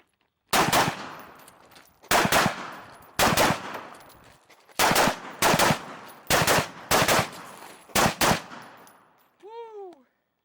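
Rapid pairs and bursts of loud, close gunshots in a competitive shooting stage fired while moving between positions, with short pauses between the strings of shots.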